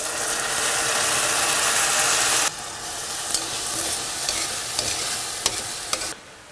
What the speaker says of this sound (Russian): Теперь сразу же капусту высыпаю.